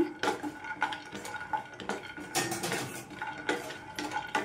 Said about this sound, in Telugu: బాదం పప్పు, జీడిపప్పు, పిస్తా అండి, ఈ 3 కూడా మంచిగా వేయించుకోవాలి